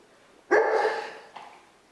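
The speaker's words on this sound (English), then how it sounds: "There's a dog walking by." A dog gives a single sharp, fairly close bark, followed by a faint short yip a moment later.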